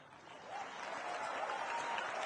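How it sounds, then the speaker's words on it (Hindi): A crowd at a public event claps faintly and from a distance, the applause swelling slightly and holding steady for a couple of seconds. "आप लोगों ने ताली नहीं बजाई, उधर तो बजे"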